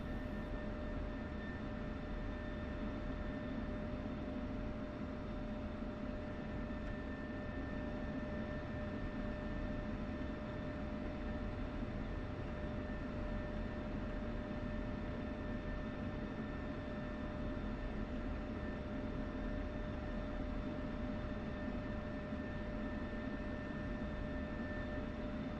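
F-16 jet engine in the DCS flight simulator, a steady, even roar with a constant whine laid over it, unchanging and uninterrupted throughout.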